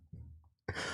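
A single low cough sounds close, followed by a sharp, louder breathy burst, brief and isolated against quiet.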